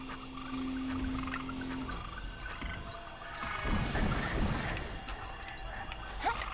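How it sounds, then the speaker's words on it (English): Frogs croak and insects chirr in the game Made in Abyss: Binary Star Falling into Darkness, a faint layered night chorus with soft overlapping calls and a brief steady tone early on. "this is normally where the frogs start spawning"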